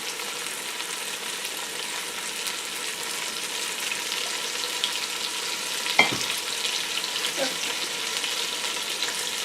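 Beef stew ingredients sizzling in olive oil in a pot, an even, moderate hiss throughout with one sharp clatter near the middle.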